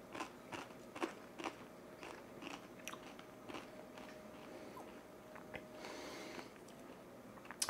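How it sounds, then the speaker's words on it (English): Sharp crisp cracks and crunches, several scattered snaps of a brittle Dutch almond lace cookie (kletskop) breaking apart, close and fairly quiet with no talking. "You could hear it when it falls, how crunchy these are."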